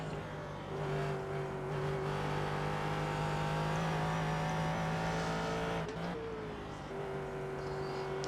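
A race car engine drones at sustained high revs on The Glen circuit in the iRacing sim, shifting pitch slightly through corners, steady and fairly quiet throughout.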